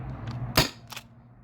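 A modded T4E HDB68 CO2 shotgun fires a single sharp, brief pop at close range, followed by a fainter mechanical click, against a low background hum.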